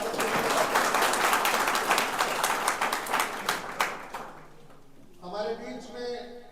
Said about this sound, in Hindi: एक बार जोरदार ताली बजाकर स्वागत करिए।